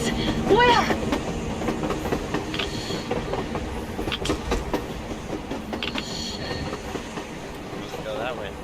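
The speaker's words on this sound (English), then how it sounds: "A train! A damn train on the surface!" Train running on the surface in the game Metro Exodus, a continuous rumbling rattle with clattering wheels and brief metallic squeals at moderate distance, mixed with game ambience and occasional speech.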